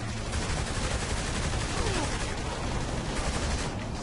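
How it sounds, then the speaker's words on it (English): Gunfire in the video game Saints Row 3, a dense, unbroken barrage of rapid shots filling the whole stretch at steady loudness, close and intense. "Open fire!"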